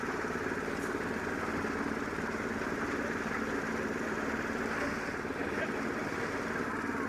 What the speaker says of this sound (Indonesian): Beberapa orang terlihat sibuk mengatur adukan di mesin molen.